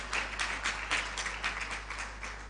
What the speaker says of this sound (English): Enjoy a round of applause